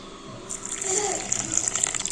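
Boiled and cooled milk at room temperature pours into cake batter made from Parle-G biscuits, a steady liquid trickle and splash rising after a quiet start and continuing for about two seconds, close and moderately loud, with no talk.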